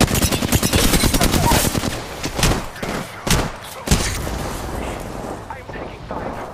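Rapid incoming gunfire in the video game Apex Legends, loud dense bursts of shots for the first couple of seconds, then scattered heavy single impacts, with talk over it.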